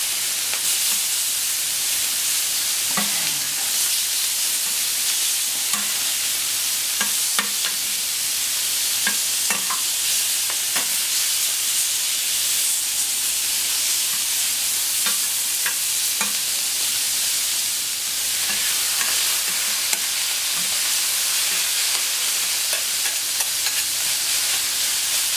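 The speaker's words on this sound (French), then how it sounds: "Les champignons commencent à dorer, la viande aussi." Beef fillet and mushrooms sauté and brown in a pan for a paprika beef dish, a constant bright sizzle with occasional spatula scrapes and taps spread through the long stretch, with no voice.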